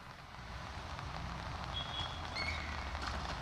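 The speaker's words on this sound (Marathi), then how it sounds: "मुंबईमध्ये आज सकाळपासून पाऊस पडतोय" Heavy, continuous rain falls over Mumbai and its suburbs, heard as a soft, even hiss of drops on surfaces with a low background rumble and no voices.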